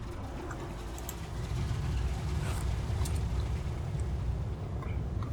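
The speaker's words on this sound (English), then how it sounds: "Let's turn on all the engines again." Aircraft engines start up and settle into a steady, even rumbling drone in War Thunder; the low roar swells after a quiet first second and holds at a constant level with no voices.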